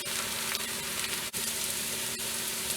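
Masala of spices, pepper and chili frying for Indian-style stuffed bell peppers sizzles steadily in a pan, a dense, continuous hiss close up with no talking.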